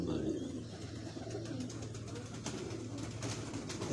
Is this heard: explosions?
no